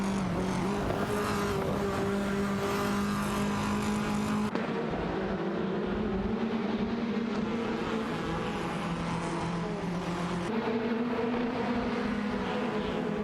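TCR touring cars, including an Alfa Romeo Giulietta and a Lada Vesta, racing on a circuit in a video game. Droning engines hold steady and shift pitch through gear changes, continuous and close.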